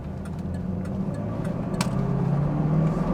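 A 2000 Pontiac Trans Am pulls away from a green light with a steady, rising engine drone and road rumble heard from inside the car, gradually building in loudness.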